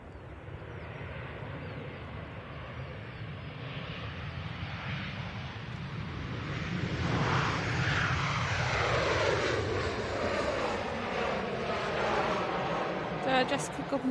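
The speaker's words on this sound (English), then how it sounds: "Firm landing, but got it down nicely." An airliner touches down firmly at Manchester Airport, a steady broad engine roar that swells toward the middle and lingers as the plane rolls out, heard from a distance over outdoor noise and murmured talk.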